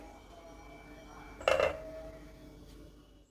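A lid set down over a bowl of jowar millet dosa batter, one short clattering clink of metal or crockery, near and fairly loud, followed by a fading ring over a quiet kitchen background.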